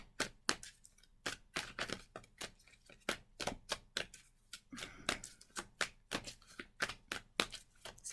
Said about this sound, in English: I'm sure you can hear the cards going